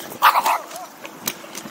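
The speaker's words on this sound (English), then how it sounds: "Killer dog." A dog gives a short burst of two or three loud, close barks, followed by fainter yips and scattered rustling outdoors while someone rides an electric bike.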